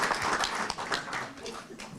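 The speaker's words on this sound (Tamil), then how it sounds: "கைதட்டுவோம்" An audience claps at a world Tamil arts and culture academy function in London, a soft, steady burst of applause from the hall lasting a couple of seconds, heard alone without speech.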